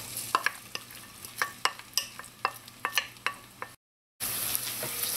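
Onions fry in warm oil for Trinidad fried okra, a low sizzle punctuated by a regular series of spoon taps and scrapes, then a brief gap before a louder burst of sizzling.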